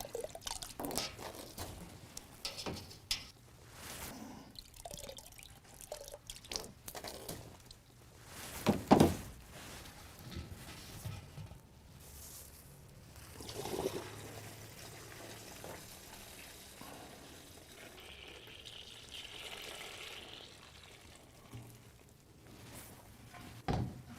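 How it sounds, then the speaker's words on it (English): Homebrew beer wort, with the hop bags removed, is poured into a fermenter, giving a long, fairly quiet run of splashing, trickling and dripping liquid, broken by a few hollow knocks and clunks against the vessel. "Remove your hop bags from the wort and add your wort to the fermenter."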